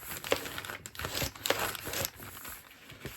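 Paper being folded for a junk journal, a few close crinkling and creasing rustles in short bursts with brief pauses between them.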